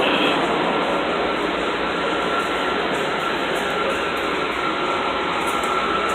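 A Long Island Rail Road train on the Montauk Branch rumbles with a loud, continuous broadband roar and an even steady noise throughout, heard from on board with no voices.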